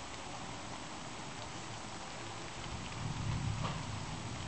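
Rain falling during a thunderstorm, a faint, steady wash of hiss that swells slightly toward the end, with no voices.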